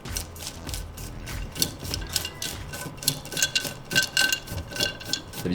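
A desk leg is screwed onto a metal mounting plate, giving a close series of irregular ratcheting clicks and rubbing turns that repeat in quick bursts.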